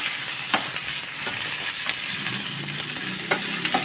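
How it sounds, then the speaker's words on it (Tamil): Onion, tomato, chilli and coconut sautéing for mutton sukka, a loud continuous sizzle in the pan with occasional stirring scrapes, no voices. "அதையும் இதில் போட்டுருவோம் போட்டு இதை நல்லா வதக்கிடுவோம்"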